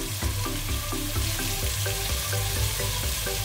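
Ground spice paste sautéed with lemongrass for a spicy chicken-feet dish, a dense continuous sizzle of frying in oil close up, steady and loud with no voices.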